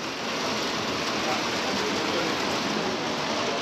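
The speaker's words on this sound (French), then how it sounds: "Je sais pas si vous entendez l'orage," Heavy rain from a thunderstorm pours down in a dense, constant hiss that stays loud and even throughout, with no voices.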